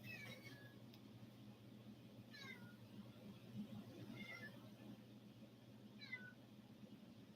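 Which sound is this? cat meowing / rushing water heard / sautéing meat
cat meowing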